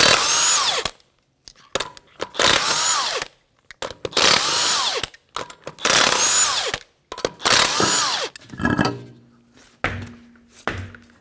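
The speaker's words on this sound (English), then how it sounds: "21mm socket, we're going to remove the tire." A power tool with a 21mm socket spins lug nuts off the front wheel of a 1992-1996 Toyota Camry: several loud rattling, hammering bursts separated by short silences, then clanks of loosened parts.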